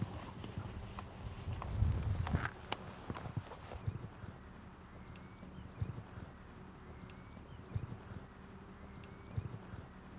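Horse hooves clip-clopping at a slow walk during a jumping lesson, soft regular thuds under wind noise, moderately distant and faint.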